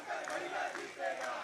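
A rally crowd chants a campaign slogan together, a loud rhythmic roar of many voices pulsing in repeated surges, fairly close and continuous throughout.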